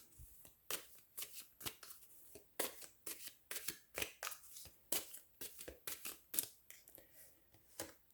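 Tarot cards riffle and slap through repeated quick shuffles, close and crisp, in a steady run of sharp bursts roughly twice a second, alone without talk.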